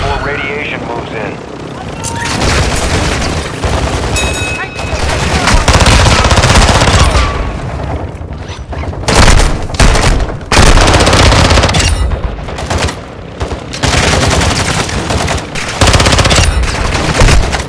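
Loud rapid machine-gun bursts rattle in a video game battle, repeated volleys over a roaring helicopter-like drone, with intermittent heavy firing and short gaps between strings of shots.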